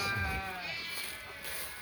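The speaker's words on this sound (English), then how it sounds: "You can hear the sheep in the background." Sheep from a flock of about 300 bleat repeatedly in the background, a wavering chorus of calls at moderate distance over steady outdoor pasture ambience.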